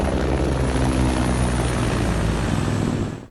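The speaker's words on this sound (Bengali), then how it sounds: "দেখে মনে হচ্ছে হেলিকপ্টারের পাখাগুলো হয়তো ঘুরছেই না" A helicopter's spinning rotor blades and engine make a loud, steady droning roar that holds constant for about three seconds before cutting off at the end. No voices.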